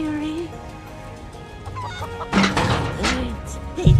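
Chickens cluck and squawk up close in the video game Final Fantasy VII Rebirth. Quiet, scattered calls over a soft ambient bed give way to louder, busier clucking in the second half, with a final burst at the end.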